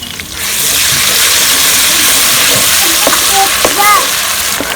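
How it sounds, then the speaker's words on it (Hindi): Green chili, garlic and ginger paste sizzles loudly in a pan in a village kitchen while cooking tori sabzi, a steady close frying hiss with a few sharp pops and stirring clinks. "सब्ज़ मिर्च, लहसुन और अदरक का पेस्ट शामिल करेंगे"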